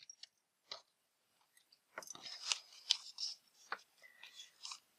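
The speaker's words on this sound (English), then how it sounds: "Cute little scissors." Small, cute scissors handled close up during bookbinding, giving a few faint, crisp snips and light metallic clicks scattered across a quiet background.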